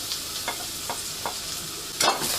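Grated vegetables sautéing with browned onion in a pot give a steady close sizzle, with several short bursts of stirring and a louder scrape near the end.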